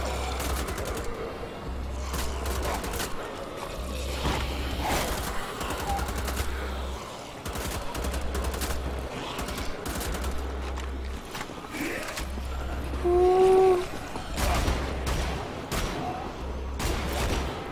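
Repeated shotgun blasts in the video game Wolfenstein: The Old Blood, loud booming shots at irregular intervals through a chaotic firefight with background game noise.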